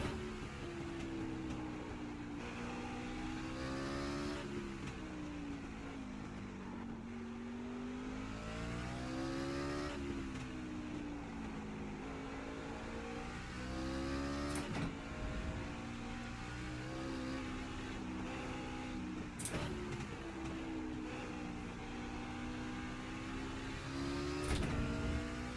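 A V8 stock-car race engine laps Mid-Ohio in a sim, revving hard and rising and falling in pitch through repeated upshifts and downshifts, loud and continuous throughout with no voices.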